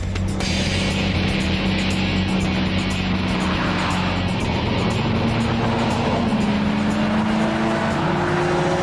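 A Bugatti car drives hard on a racetrack, its engine note loud and continuous, rising and falling in pitch through gear changes, with tire noise underneath.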